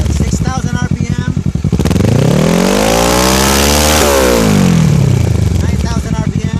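Kawasaki Ninja 650 from 2013 with a Two Brothers full-system exhaust revving hard, a loud close engine note that climbs steeply in pitch, holds at high revs, then falls back to a lumpy idle.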